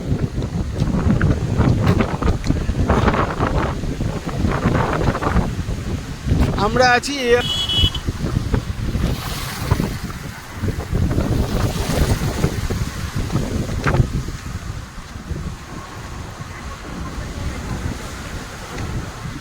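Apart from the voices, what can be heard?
rough sea waves and wind at Old Digha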